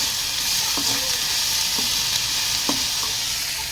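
Cabbage palya stir-frying in a pan, a steady close sizzle with a few sharp scrapes and clinks of the spatula stirring through it.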